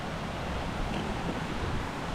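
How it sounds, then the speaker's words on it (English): A waterfall on a forest hike in Galloway, Scotland gives off a continuous broadband rush of falling water, loud and even throughout with no voices. "Good waterfall."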